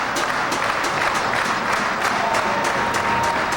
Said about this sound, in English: These fans making some noise.